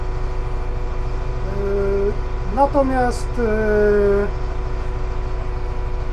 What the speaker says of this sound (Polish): Orbitrol, to najprawdopodobniej jest on zamontowany w kabinie, więc troszeczkę go słychać podczas kręcenia kierownicą